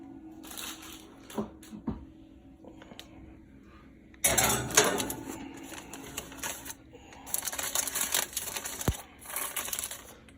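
Metal bread loaf pans are set into an oven for a second rise: scattered clanks and thuds at first, then bursts of rattling metal and scraping, close by.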